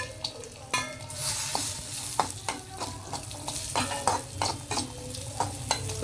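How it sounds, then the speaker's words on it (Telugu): Cashews and raisins fry in ghee with a steady close sizzle while a spoon stirs and taps the pan in frequent clinks and scrapes, with no talk. "కొంచెం వేసి ఈ డ్రై ఫ్రూట్స్ వేపుదామండి, నేతిలో వేయిందాము"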